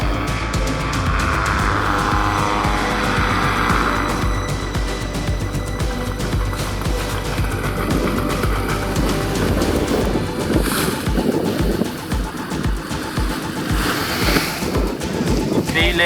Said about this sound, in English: you must feel the engine.